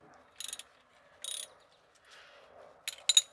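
A ratchet turning a 15 mm socket on the oil drain pan bolt of a 2016-2022 Chevrolet Malibu 2.0L Turbo, a few short bursts of quick clicking separated by quiet pauses, close by.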